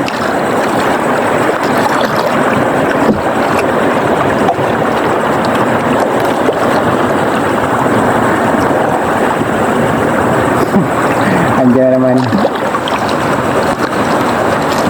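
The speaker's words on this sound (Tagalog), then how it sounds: "Kaso lang, malakas na naman yung hangin." Strong wind buffets the microphone in a constant loud rush, with a brief rattling knock partway through.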